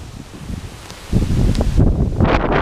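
Strong outdoor wind gusts roar into the microphone beside a tree during a bee swarm capture, with rustling leaves. The broadband buffeting rises sharply about a second in and stays loud and continuous.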